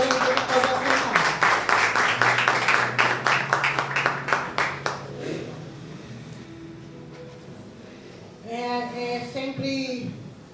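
Congregation in a church clapping together loudly in quick, steady rhythm, then the applause tapers off, and someone speaks over the fading claps.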